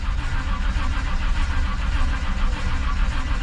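Old truck running on a 350 engine fed by an electric fuel pump and a two-barrel Rochester carburetor with no choke, giving a loud, steady close-up engine rumble throughout.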